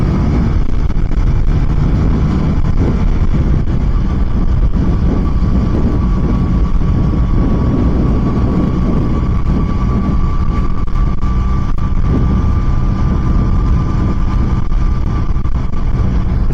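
A motorcycle rides along a road in Pennsylvania, its engine droning continuously beneath steady broadband wind and road rush, loud and unbroken throughout.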